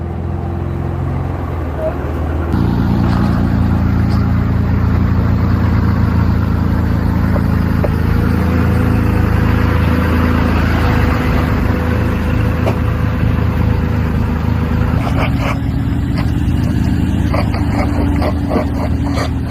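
A Jeep and a tractor hooked together pull a large camper RV up a hill, with a loud, steady engine drone running throughout and rising in intensity partway through.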